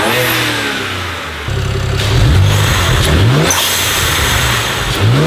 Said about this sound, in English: let's go ahead and turn on the car real quick